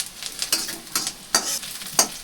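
Onion and chopped vegetables for manchurian are tossed in a hot pan. Five short bursts of sizzle and scraping rise over a faint background hiss, with no talk.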